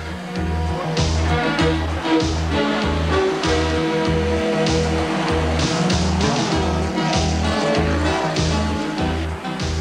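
Rally cars race through a forest on the 1987 Mountain Trail rally, engines roaring loud and close with rhythmic revving and gear changes, tyres scrabbling on the surface.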